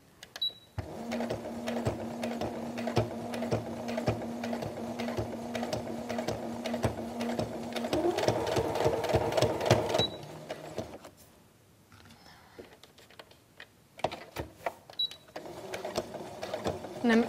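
Sewing machine stitching a zipper into fabric, rapid close mechanical clatter in long runs with brief pauses and a quiet gap midway, a voice talking over parts of it.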